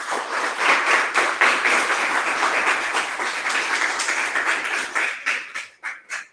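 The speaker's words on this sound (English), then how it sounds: "Can we give our students a better round of applause, please?" Applause for students at a summer coding program's closing ceremony: a close, fairly full round of clapping that holds steady, then thins into a few scattered, separate claps before stopping.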